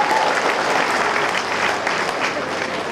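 An audience at a political gathering gives steady, dense applause throughout, close and continuous.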